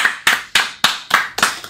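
A few people clap in six sharp, evenly spaced bursts, close and loud, with short gaps between them and no voices over the claps.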